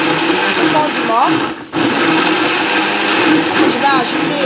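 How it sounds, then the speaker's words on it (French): An electric blender whirs loudly and close while mixing condiments for a pistachio, okra and smoked turkey sauce, a steady motor whine with a brief dip mid-way. "Voilà, je mixe seulement le condiment."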